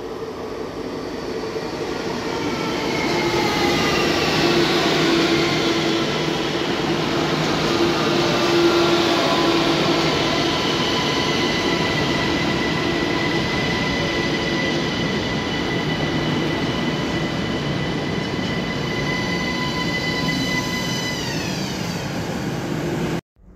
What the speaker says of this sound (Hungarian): hamarosan meg is érkezett a vonatunk Bécs felől